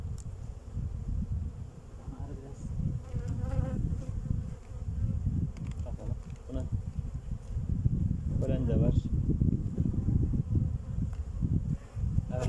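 Honey bees buzzing densely around an opened hive during a colony inspection, a constant close low hum that swells and fades, with a person talking intermittently over it.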